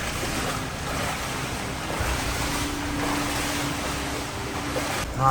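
Underground river water rushes steadily through the Syrets cave tunnels in Kyiv, a broad, continuous hiss and roar of flowing water filling the enclosed space without speech.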